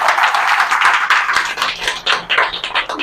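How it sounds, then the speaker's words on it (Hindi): An audience at an indoor business training event applauds: dense, steady clapping from many hands that stays loud and close, then turns slightly choppier toward the end. "एक बार जोरदार तालियां हो जाए"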